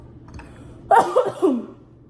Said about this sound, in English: I had to cough a little bit.